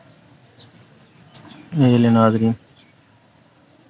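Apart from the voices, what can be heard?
pigeon cooing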